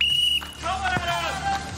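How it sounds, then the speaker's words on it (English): At a Sunday league football match, a referee's whistle gives a sharp, high, steady blast to start play, heard close and loud for under half a second, then voices and crowd noise carry on. "All right, Adam, on my whistle in three, two, one."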